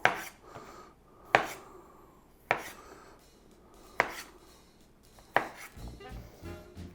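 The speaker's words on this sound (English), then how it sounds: "All we're gonna do is half and quarter some grapes and get them into the bowl." A knife strikes a cutting board in five evenly spaced, sharp chops while halving and quartering grapes, each impact close and distinct with quiet handling between strikes.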